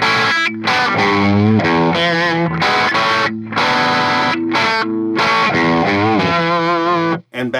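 Avatar 18-watt guitar amp driven by a boost pedal, a thick distorted electric guitar playing sustained chords and riffs, loud and continuous with short gaps between phrases and no talking.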